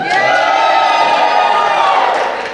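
Wedding guests in a reception hall cheer and whoop loudly together, a dense, continuous crowd roar that fades slightly at the end.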